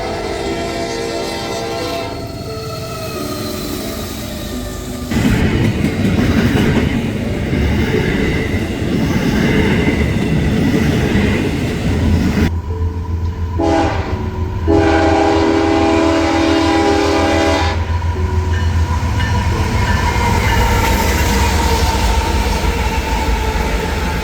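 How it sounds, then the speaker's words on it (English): Eastbound intermodal freight trains pass close by, a loud sustained rumble of railcars with a long horn blast in the middle, continuous throughout and free of talk. "The next few trains would just be some more eastbound intermodal traffic."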